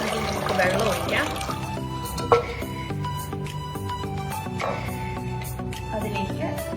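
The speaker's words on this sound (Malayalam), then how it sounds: "കപ്പ വേവിക്കാൻ നമുക്ക് വെള്ളം ഒഴിക്കാം." Water poured into a pot to boil tapioca, a steady pouring and splashing sound with a brief louder knock midway, accompanied by background music throughout.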